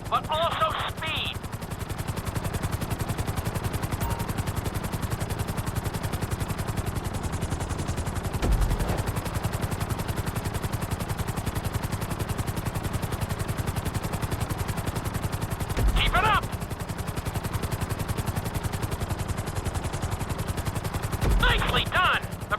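A GTA 5 helicopter flying a flight school course, its rotor and engine drone steady and loud throughout, with sharp clattering bursts breaking in now and then.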